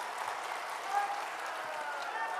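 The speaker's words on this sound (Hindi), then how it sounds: "एक बार जोरदार ताली बजाकर स्वागत कीजिए साथियों" A crowd applauds steadily at a political rally in Gaya, Bihar, the dense clapping forming an even wash of noise with some speech mixed in.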